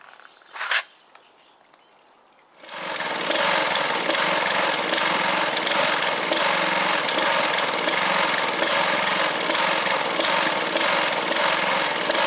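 After a quiet opening with a brief bump, a lawn mower engine starts up close and loud, then holds a steady, buzzing roar for the rest of the clip.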